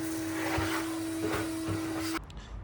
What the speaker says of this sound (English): So let's vacuum out these iron filings in here.